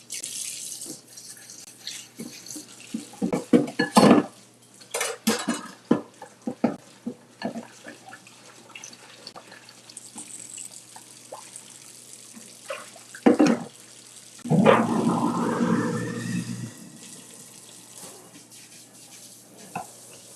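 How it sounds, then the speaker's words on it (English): A bowl is washed by hand in a kitchen sink after baking a chocolate cake, with running tap water, splashing and clinks of the bowl in bursts, and a longer gush of water near the end. "so I'm going to wash the same bowl by hand"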